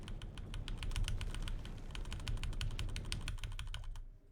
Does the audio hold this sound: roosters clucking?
no